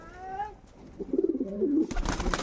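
A spotted dove and pigeons coo inside a loft, a short run of low, rolling coos up close, followed by a burst of wing flapping or rustling at the end.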